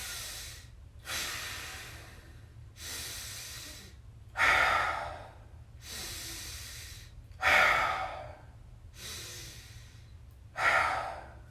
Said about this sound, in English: So I'm going to inhale.